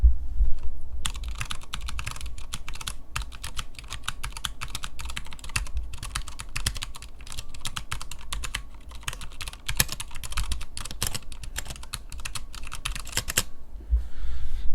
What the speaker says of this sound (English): here is the Poker 3, but it is MX clear, so it's going to sound substantially different anyways